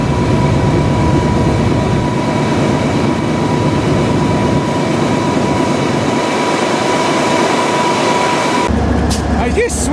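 A BNSF freight train pulls out, heard from aboard, as a steady loud rumble and rattling drone with a sustained tonal hum, shifting abruptly near the end.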